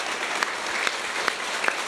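Schoolchildren in a primary school classroom clap in response to a request, giving sparse, somewhat rhythmic applause with a few sharper claps standing out above a steady background hiss.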